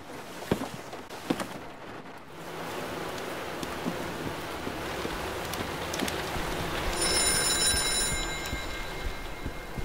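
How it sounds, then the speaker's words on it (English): A telephone rings inside a house during a game, its trilling bell rising toward the end over a steady background hiss and a few scattered knocks and footsteps. "So the phone is ringing."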